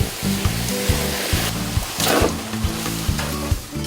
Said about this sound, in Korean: 숯이 얼마나 뜨거운지 물이 보글보글 끓기 시작하는데요.